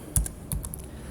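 Router commands typed on a computer keyboard: a few sharp, close key clicks in a quick irregular burst, with two heavier strokes among lighter taps, alone without speech.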